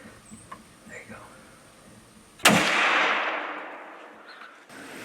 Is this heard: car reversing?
no